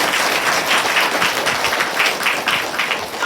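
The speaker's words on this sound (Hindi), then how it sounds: "एक बार अमिताभ बच्चन के लिए जोरदार तालियां।" An audience claps loudly and steadily at close range throughout, a dense, even wash of applause with no speech.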